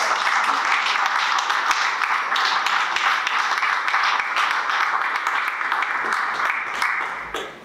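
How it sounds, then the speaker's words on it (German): Applause from guests at an art exhibition opening in a gallery, a continuous wash of clapping that holds steady and fairly loud before tapering off at the end. "Also ein Applaus für die Mutter"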